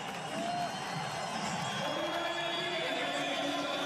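A 10,000-strong sold-out crowd at the Red Bull X-Fighters freestyle motocross event in the Dionyssos Marble Quarry, Athens, Greece, roaring and cheering as a steady distant wash, with a commentator's voice over it.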